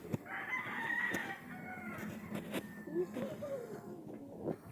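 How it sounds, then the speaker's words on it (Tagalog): Chickens cluck and a rooster crows at a farm edge beside a banana tree forest, the crowing rising clearly over scattered clucks at moderate distance, with brief faint voices. "We got some chicken here."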